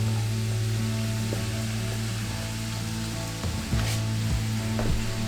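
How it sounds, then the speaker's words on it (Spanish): Chopped vegetables for a sofrito frying in a pan over medium heat, giving a close, steady sizzle and crackle with a constant hum and a few clinks from stirring near the end. "agregamos todo lo que hemos picado para sofreír"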